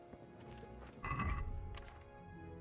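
Horse in Kingdom Come: Deliverance, a close loud neigh with snorting and a few hoof clops, then settling into quieter ambient noise.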